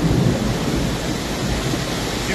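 A thunderstorm with heavy rain over Khankendi, where a continuous loud downpour roars with a low rumble of thunder underneath throughout.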